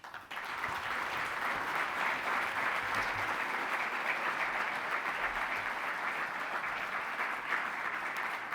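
An audience at a tribute event honoring Julio Ramón Ribeyro gives a sustained round of steady applause. The clapping is dense and even throughout, with no voices above it.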